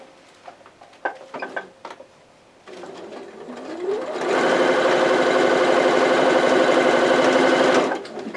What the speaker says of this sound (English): just going to lay those 2 pieces right sides together and just sew straight across